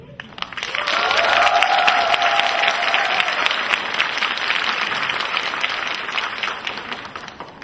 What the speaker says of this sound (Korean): 소개할 때마다 박수로 격려해 주시기 바랍니다